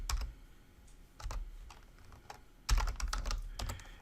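Keystrokes on a computer keyboard while a username is entered, short bursts of clicky taps with pauses between them, close and clear, with no talking.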